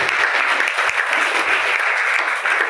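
An audience claps in a dense, sustained round of applause at a health awareness program, welcoming a leader. The clapping is loud and even throughout, with no break.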